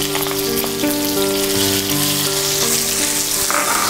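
Curry leaves, crushed masala and ten dried red chillies frying in hot oil crackle and sizzle steadily up close, a dense, even spitting hiss with no talk.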